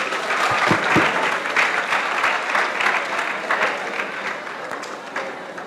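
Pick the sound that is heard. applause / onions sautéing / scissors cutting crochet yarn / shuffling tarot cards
applause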